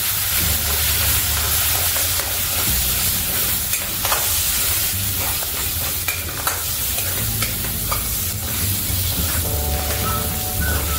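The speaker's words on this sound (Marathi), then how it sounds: "हे मिक्स करून घ्यायचं." A spoon stirs a sizzling lasuni methi curry mixture of batter, spices and fenugreek in a hot pan, with continuous loud frying hiss and repeated scraping strokes close by and no voices.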